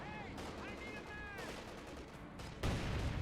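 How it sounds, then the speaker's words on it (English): A land mine goes off in a Company of Heroes 2 battle: scattered game gunfire and faint voices come first, then a sudden loud blast near the end. "Actually blows up that mine."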